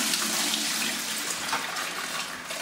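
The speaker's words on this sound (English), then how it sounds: "Drain as much water as you can out of this." Water pours and drains steadily out of a bucket holding stainless steel tumbling media, a continuous loud rushing splash with no pauses.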